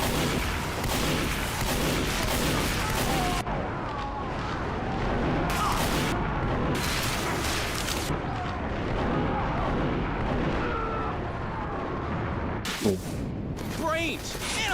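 Gunfire in Team Fortress 2, a continuous dense barrage of shots and booms filling the whole stretch, with sustained loud bursts and brief pauses, mixed with game noise and a voice talking underneath.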